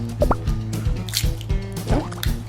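Dipping sauce is poured over a 7-Eleven meal with soft boiled eggs, giving close, rapid wet drips and squishy splats in an irregular patter with no voices.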